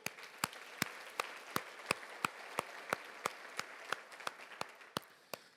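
A church congregation applauds the word of the Lord: a soft, distant wash of clapping punctuated by sharp, evenly spaced claps, steady throughout.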